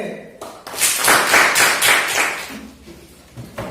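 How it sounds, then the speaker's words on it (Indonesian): Applause for a student group in a mathematics class: a room of people clapping steadily for about two seconds, swelling then tapering off, with a voice briefly heard near the end. "tepuk tangan untuk kelompok YWMC"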